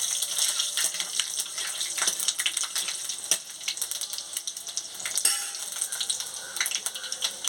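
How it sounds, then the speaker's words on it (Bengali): Dried red chillies, panch phoron and bay leaves hit hot oil in a heated pan for a jackfruit-seed chorchori, giving a close, steady hiss with many small crackles and pops. "শুকনো লঙ্কা, পাঁচ ফোড়ন আর তেজপাতা দিয়ে দিচ্ছি।"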